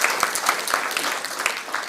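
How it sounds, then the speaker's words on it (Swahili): Rhythmic clapping from a group at an induction training session for senior managers at the State Department for Public Service, steady claps about four per second, close and moderately loud, with faint voices underneath. "Pigieni makofi katibu wetu."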